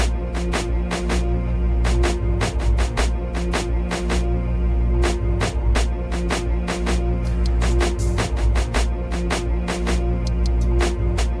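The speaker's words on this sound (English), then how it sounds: "I think I'm going to take the hood trap snare preset." A trap beat loops steadily, with crisp snare and hi-hat hits cracking in a quick, busy pattern over a deep, sustained bass and synth bed. No voices.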